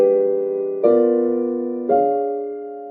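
Two sustained piano chords, dominant sevenths with upper appoggiaturas left unresolved, each struck cleanly and left to ring and decay, sounding alone and close.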